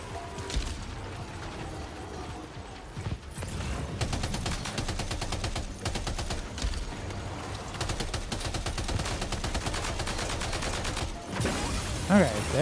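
Video game gunfire, rapid repeated bursts of close, sharp automatic shots with mechanical clatter, sustained over many seconds with short pauses, ending in a louder burst.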